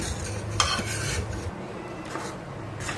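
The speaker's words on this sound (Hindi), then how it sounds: "अब इस शरबत के सिरप को हम पकने देंगे जब तक ये चिपचिपा ना हो जाए, यानी कि चिपचिपी कंसिस्टेंसी आने तक हम इसे चलाते हुए पका लेंगे।" Fennel sherbet syrup being stirred in a cooking pan, with a steady scraping and clinking of a utensil against the pan, a few sharper knocks, and a soft sizzle underneath, close and continuous with no talking.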